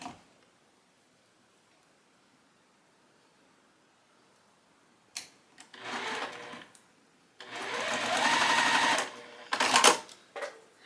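A sewing machine stitches rows of a quilt block in short bursts of whirring separated by pauses, with a longer run in the middle and faint clicks around it.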